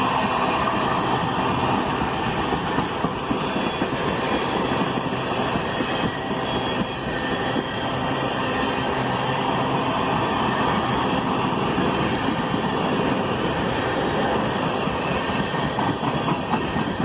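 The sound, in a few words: train getting up to speed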